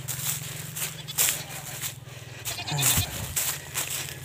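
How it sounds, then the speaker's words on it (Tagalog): Pregnant farm goats bleat in short, wavering calls, several separate cries rising above a low engine-like hum, fairly close, with some voices and handling noise around them. "Lipat-lipat lang tayo ng ating mga alagang kambing."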